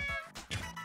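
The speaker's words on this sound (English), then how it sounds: "Insert a knob to hear cats?" Cat-voice meow notes from the Nintendo Labo Toy-Con Piano, two or three short synthetic meows in quick succession, quiet and with no talking.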